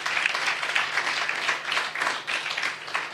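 A church congregation claps together during a Sunday worship service, dense sustained applause with a steady crackling texture that swells and dips slightly, filling the room.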